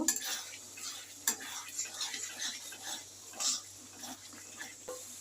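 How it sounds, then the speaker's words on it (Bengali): A spice masala with Kashmiri chilli is sautéed in a pan, with soft, quiet scraping and stirring strokes coming in irregular bursts and a few sharper clicks of the spoon against the pan. "মশলাটা এবার ভালো করে আমি কষিয়ে নেব"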